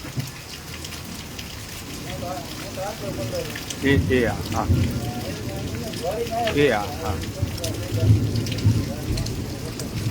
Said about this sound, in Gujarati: આ વરસાદ છે અમારા હળવદમાં વીસેક મિનિટથી